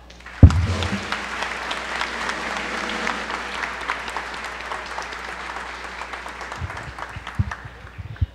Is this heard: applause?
yes